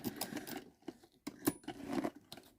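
A vintage Singer sewing machine stitches through felt in short uneven bursts of close mechanical clatter and thumping, broken by brief pauses, with no talking.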